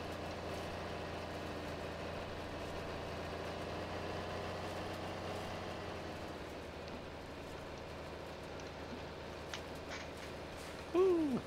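Tractor engine idling in a farming video game, a steady low rumble with a brief louder burst near the end.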